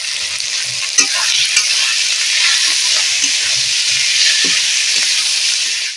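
Mussels and chopped tomato fry loudly in an oiled pan for a spicy shellfish curry, a steady close sizzle with scraping stir strokes and occasional clinks throughout, no voices.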